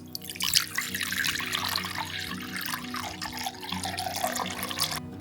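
Water for soap making, 320 grams of it, pours steadily into a container as a continuous close splashing trickle lasting several seconds, alone and fairly loud.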